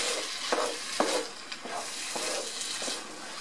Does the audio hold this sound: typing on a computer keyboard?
no